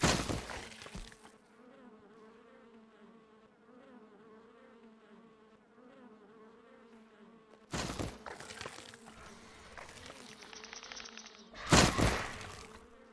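A steady, droning insect buzz from a creature in the game Ark: Survival Ascended, continuous and fairly close, interrupted by two short loud bursts of noise.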